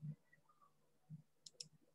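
Faint, quick clicks of a computer mouse during graphic design work come as a few soft taps, including a tight double click near the end, in an otherwise quiet room.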